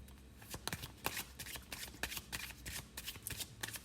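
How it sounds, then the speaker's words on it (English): Tarot cards being shuffled in a steady run of quick, crisp riffling bursts, close and fairly quiet, with no voice over them. "while I am shuffling for your card"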